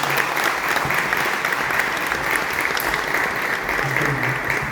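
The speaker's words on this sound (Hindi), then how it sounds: "दो तालियों से प्लीज़।" A congregation at a Hindi/Urdu church worship service breaks into loud, sustained applause as a gift is presented to the pastor, a thick steady roar of clapping with murmuring voices beneath.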